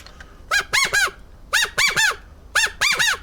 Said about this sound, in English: This one sounds like a quail.